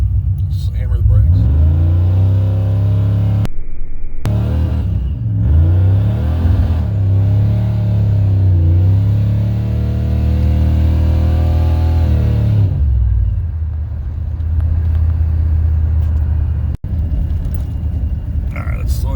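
A 1990 Chevrolet K2500 truck engine revs hard against the brakes in a stall speed test, a loud sustained rising and falling roar with harmonic pitch sweeps, dropping back to idle near the end, with someone talking over it.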